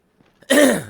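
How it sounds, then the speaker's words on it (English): One close, short throat clearing, a quick rasping rumble that fades within half a second after a few tiny breaths. "and clear my throat"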